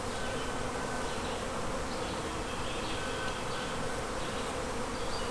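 Dense, steady buzzing of a honeybee colony preparing to swarm fills the air continuously, a loud droning swarm with no pauses and no voices.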